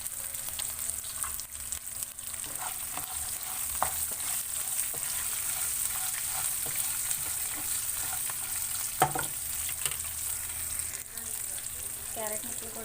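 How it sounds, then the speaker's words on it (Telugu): Onion, green chilli and carrot pieces frying in oil for cashew upma give a steady close sizzle, broken now and then by faint stirring clicks and scrapes. "ఉల్లిపాయ ముక్కలు, పచ్చిమిరపకాయ ముక్కలు వేయించుకోవాలండి"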